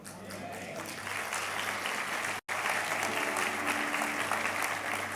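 A church congregation at a sermon gives sustained, even applause from many hands, steady and moderately loud, broken only by a momentary dropout midway.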